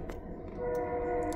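A steady low rumble of a passing train builds and holds, with a faint horn-like tonal line running through it.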